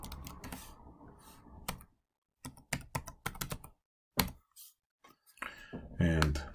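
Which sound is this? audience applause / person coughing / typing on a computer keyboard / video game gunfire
typing on a computer keyboard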